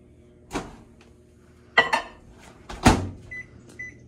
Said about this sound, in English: microwave it until warm